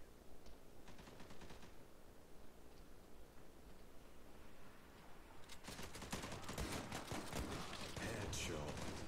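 FAMAS rifle fire in the online shooter Zula, heard as rapid bursts of shots that grow denser and louder toward the end over a steady game-noise bed.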